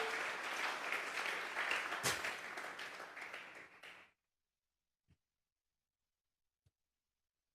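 A church congregation at a general vigil claps together in praise, a loud, dense burst of applause that fades and stops abruptly halfway through, followed by near silence with a few faint isolated knocks.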